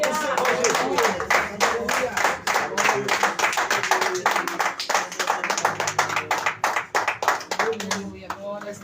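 Congregation in a church clapping in rapid, steady rhythm, dense and sustained, with singing or voices running through the claps.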